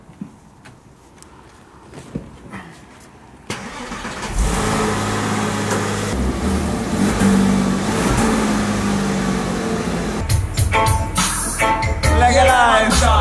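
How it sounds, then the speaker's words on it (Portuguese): Porsche engine on a test drive: a quiet interior with faint clicks, then the engine catches and runs steadily loud, rising in revs with throttle blips toward the end. "O carro está a responder bem ao acelerador."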